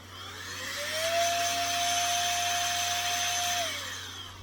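A small air blower or compressed-air duster blows dust off a plastic model kit piece for a 1966 Mustang convertible. It gives a steady whooshing roar that ramps up, holds with a rising whine, and winds down over a few seconds.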